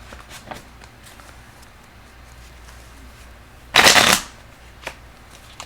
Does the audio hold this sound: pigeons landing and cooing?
no